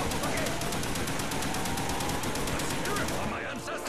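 An automatic weapon fires in Call of Duty Black Ops Zombies on the Der Riese map, a loud, steady stream of rapid shots over a dense game-sound bed, with a voice talking over it.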